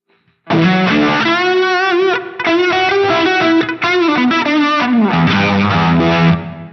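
A loud, heavily distorted electric guitar through an Axe-FX III plays sustained melodic lines with a large-room reverb tail, its low end boosted, pausing briefly between phrases, with no voices.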